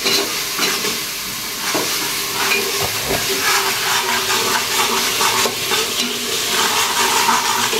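Ginger and garlic sauté in a pan for vegetable rice, a loud continuous sizzle with occasional scraping and knocks of a stirring utensil, close by, with no speech.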